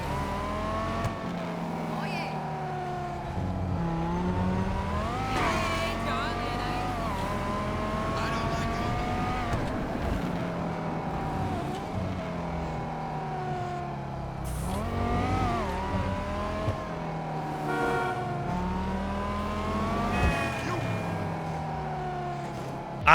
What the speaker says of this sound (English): Listen to the downshift on this thing.